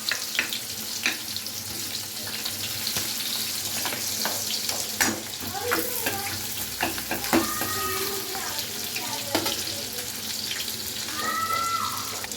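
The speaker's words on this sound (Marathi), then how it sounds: "आता तेल टाकलेलं आहे आणि आता कांदा टाकून घेऊया" Chopped onion sizzling in hot oil in a pan for a spiced masala, a continuous close fry with scattered clinks and stirring scrapes, over faint background noise.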